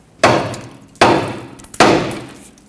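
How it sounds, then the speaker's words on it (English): Three sharp hammer blows ring out on the steel steering knuckle of a 2006-2010 Hyundai Sonata front suspension, struck to pop the upper ball joint free, each loud metallic strike followed by a short decaying ring at an even pace. "use a hammer, tap the knuckle right here, and that should pop the two apart"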